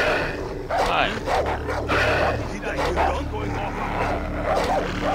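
Dogs bark repeatedly in Far Cry 3, a run of gruff barks over steady game noise, with a person talking throughout.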